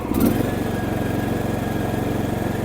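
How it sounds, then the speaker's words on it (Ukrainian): A Husqvarna TC 114 lawn tractor engine starts and settles into a steady, loud idle close by, with a rough, even mechanical drone. "ставимо його на паркінг і запускаємо даний трактор"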